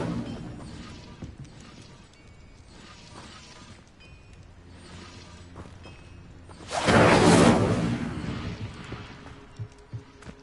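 A burst of Incendio fire magic cast in the game Hogwarts Legacy flares up loudly as a rushing, crackling whoosh for about a second and a half. It rises out of quieter spell effects and ambient game sounds and then fades away.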